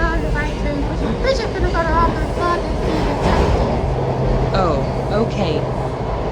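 A metro train runs steadily on its rails, a dense continuous rumble with clicks and squeals and a low electric hum, while people talk faintly in the car.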